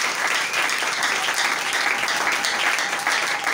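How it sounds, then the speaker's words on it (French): A church congregation applauding together at a service: dense, steady clapping from many hands, loud and continuous for a few seconds, with no voices rising above it. "Applaudissons."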